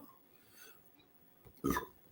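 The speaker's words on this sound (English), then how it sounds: "Excuse me, burping." A single short burp close to the microphone, a brief rough gulp of air that stands out after a stretch of faint background murmur.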